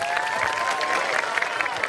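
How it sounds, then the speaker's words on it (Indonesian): A brief burst of crowd applause, steady clapping from many hands over a tonal background. "Tepuk tangan dulu dong."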